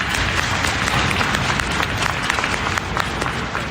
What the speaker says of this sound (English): So we give him a round of applause here